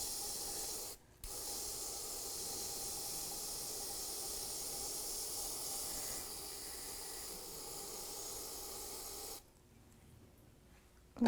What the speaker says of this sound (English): Right over my bucket, I'm just going to spray some parts cleaner right in there.